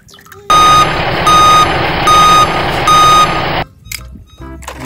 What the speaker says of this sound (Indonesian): Wadidaw, ada forklift teman-teman.